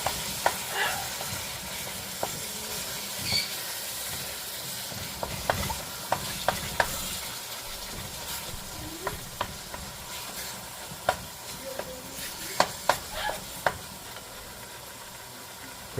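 Food frying in a pan for a legume and rice dish, a continuous close sizzle and hiss broken by scattered sharp pops and occasional stirring clicks.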